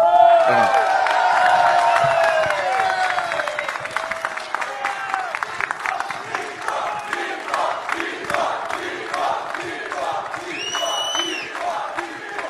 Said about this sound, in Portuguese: Por que estão aplaudindo o Bolsonaro?